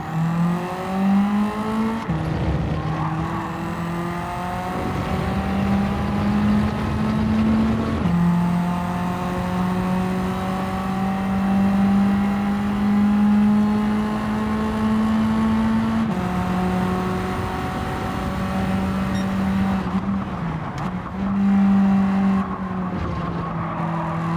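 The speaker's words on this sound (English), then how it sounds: "this engine sounds much better in this view." Race car engine in the Gran Turismo 7 video game, a steady loud drone with shifting pitch as it climbs through the revs, dips at gear changes around every few seconds, and runs continuously throughout with no talking.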